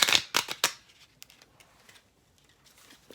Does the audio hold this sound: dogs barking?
no